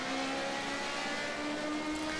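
A V8 race car engine in the Project CARS racing game, Formula C class, drones steadily at high revs throughout, loud and close with a continuous tonal hum and no talk.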